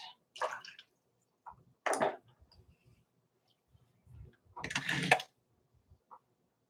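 A watercolor paintbrush is swished and rinsed in a water container, giving a few brief splashy, clinking bursts separated by silence, close and fairly quiet.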